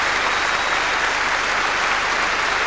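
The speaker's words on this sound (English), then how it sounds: "But that crowd would applaud anything." A large audience at the 1994 Eurovision Song Contest claps steadily, a dense wash of applause that holds at an even level for a few seconds with no speech over it.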